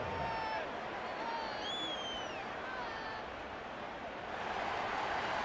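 A simulated stadium crowd at an American football game in the Madden video game, with the match staged before an English crowd: a steady, dense roar of cheering with faint whistles drifting over it throughout.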